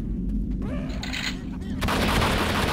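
Dense, loud gunfire from Left 4 Dead 2 fills the moment as a continuous roar of shots, intensifying toward the end.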